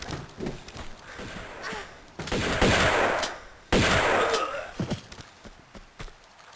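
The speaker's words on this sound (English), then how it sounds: "How about a shotgun pointed right at this dude?" A shotgun fires in Tomb Raider 2 Remastered during a level on an offshore rig, with two loud, sustained blasts surrounded by quieter footsteps and game effects.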